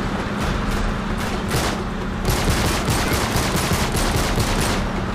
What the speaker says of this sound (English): Who started shooting me first, baby?